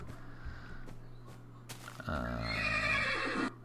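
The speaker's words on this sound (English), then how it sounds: "Oh, hey, look at a little pony." A pony in Minecraft with the Yogbox mod gives a single loud whinny lasting about a second and a half, following a few faint soft thuds, with no talk.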